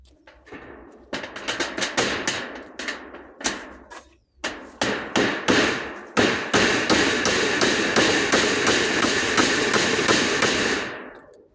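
Rapid, steady hammer blows strike nails while putting up a roof, with short pauses early on and then a continuous run of sharp, ringing taps close by.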